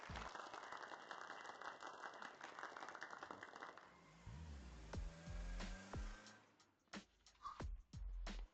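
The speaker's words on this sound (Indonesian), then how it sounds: "Mari kita berikan tepuk tangan meriah" An audience gives steady clapping applause as company directors are introduced, lasting several seconds before fading. Faint scrapes and knocks follow.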